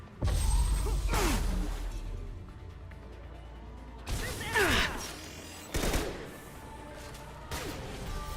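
Combat in the video game Mass Effect 2: a heavy opening thump followed by several sharp, swooshing shot blasts and crashes spaced a few seconds apart over a low rumbling game soundtrack.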